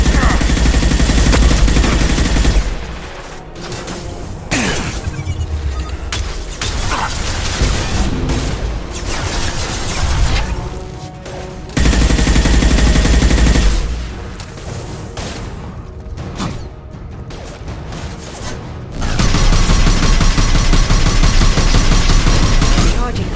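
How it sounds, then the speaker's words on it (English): Flashbang grenades go off during combat in Mass Effect 2 Legendary Edition on Xbox Series X, among loud, sustained waves of gunfire and blasts that swell and ease in turn, with occasional voices beneath. "Watch out, flashbangs!"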